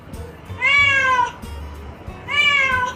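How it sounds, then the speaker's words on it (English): A cat meows twice, clear and close, each a drawn-out rising and falling call separated by a short quiet gap, with no other sounds around it. "It's a cat."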